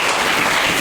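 A church congregation breaks into loud applause and cheering, a dense, steady burst of clapping that fills the space for just under a second.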